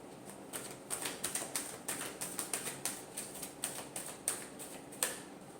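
Tarot cards being shuffled, a quick run of crisp close riffling taps and flicks in uneven bursts, with no voices.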